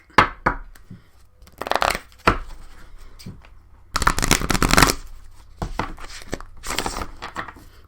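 Spellcasting Oracle deck cards shuffled by hand in uneven bursts, riffles and papery flutters with short pauses between them, close up and clear, with no talking.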